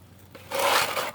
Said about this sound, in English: I'm squeezing the water out.